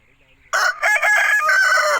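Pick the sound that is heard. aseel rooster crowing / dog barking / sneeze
aseel rooster crowing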